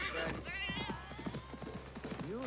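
Horse hooves clop rhythmically under a voice speaking in Assassin's Creed Mirage, and a horse whinnies near the end.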